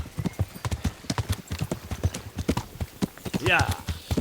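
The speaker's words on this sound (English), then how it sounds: "his horse is not very fast" Horse hooves clip-clop in a steady walking rhythm in the medieval role-playing game Kingdom Come Deliverance, close and clear, with a brief whinny-like squeal near the end.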